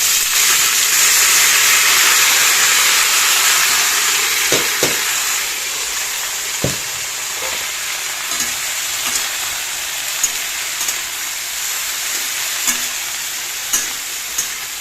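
Potato, onion, green chili and tender ridge gourd fry in a pan, a loud hissing sizzle that eases gradually, broken by occasional knocks and clicks of stirring.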